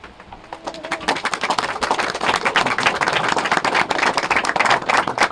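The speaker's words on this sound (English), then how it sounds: "Good applause." A crowd at a governor's farm and broadband bill signing ceremony claps, the applause starting sparse and quickly swelling into a steady, dense patter of hands that holds to the end.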